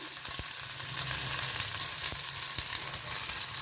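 Curry leaves, sliced onion and chopped chili fry in a pan with a steady, loud sizzle that runs unbroken throughout, marked by a few faint clicks of stirring.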